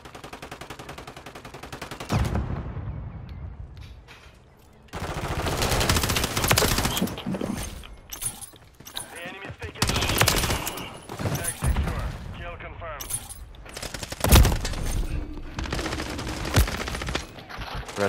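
Rapid machine-gun and rifle fire rattle through a multiplayer shooter match set in Greece, dense bursts coming in waves with short lulls, while players talk over the shooting.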